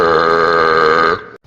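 A single long, loud, tonal burp right up close, held for about a second before cutting off abruptly, followed by a brief silence.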